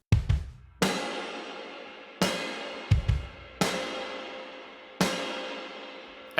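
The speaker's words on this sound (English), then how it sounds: "I've added a artificial reverb that is gated and it's only focused on the snare" Indie pop drum kit playing alone, the snare hits treated with a gated artificial reverb that rings out briefly then cuts off, alongside kick and cymbals in a steady, loud, close groove.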